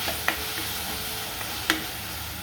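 Onions and a small chili sautéing lightly in oil, a steady soft sizzle with a few sharp taps of a utensil against the pan, nearby and without speech.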